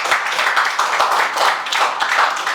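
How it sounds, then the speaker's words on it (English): Students in a classroom clap together for everyone during a class coordinator election, a dense, steady patter of many hands lasting a few seconds, fairly close and loud with no talking over it. "But clap for everyone."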